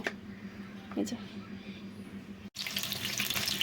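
Tap water running onto frozen fish in a sink, a close steady splash that grows stronger in the second half, with a faint voice early on.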